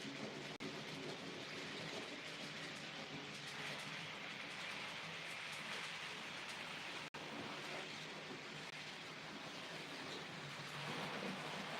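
A model Green 50 locomotive runs on a layout, giving a continuous faint rolling rumble and rail clatter over a steady hiss, with no talking.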